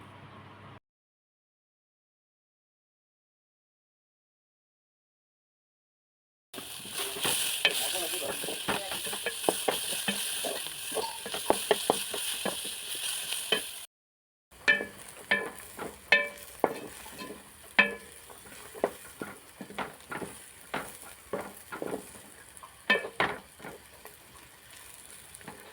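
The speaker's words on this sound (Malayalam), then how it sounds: "ഇനി ഇതിലേക്ക് വലിയ 2 സവാള നീളത്തിൽ അരിഞ്ഞതും കൂടി ചേർത്ത്" Long-sliced onions sautéing in a pan for a Kerala squid (koonthal) roast, a busy crackle of stirring and sizzle with scraping taps, starting after a silent gap and briefly pausing midway; no talk.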